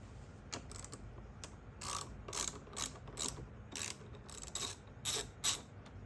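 A ratchet with a 10 mm socket loosens a car battery terminal, giving bursts of quick, close clicking strokes in an uneven rhythm with short pauses between them.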